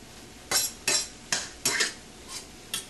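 A utensil stirs garlic with salt, pepper and nutmeg in a pan, making six crisp scraping clinks at a steady, unhurried rhythm, close and alone.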